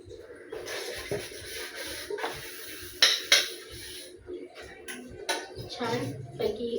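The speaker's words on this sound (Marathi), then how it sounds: "छान पैकी आपण आता भांडी घासतोय." Pots, plates and steel utensils scrubbed and washed by hand knock and clatter in irregular bursts, with sharper clanks partway through and a voice talking over them.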